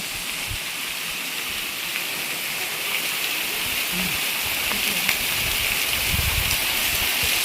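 Continuous roaring rush of falling water, loud and steady throughout, like standing close beneath a waterfall at Fofsandi village in Maharashtra.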